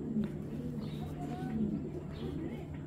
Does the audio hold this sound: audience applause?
no